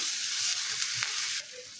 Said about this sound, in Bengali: তো এই মশলাটাকে আমি একটু ভালোভাবে নাড়াচাড়া দিয়ে ভাজা নেব।